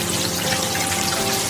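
Tempura crackling and sizzling in hot oil, a dense, steady hiss of fine pops that resembles rainfall, heard close and alone.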